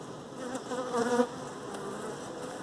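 Honeybees buzzing around an open beehive as a brood frame full of worker bees is lifted, a steady close insect drone that swells briefly at mid-point before settling back to a constant hum.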